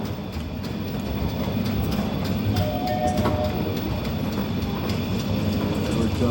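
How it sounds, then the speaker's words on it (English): A train rolls past at Independence Mall in Wilmington, North Carolina, a steady low rumble of cars and engine lasting throughout, with a faint squeal partway through. "There's that train."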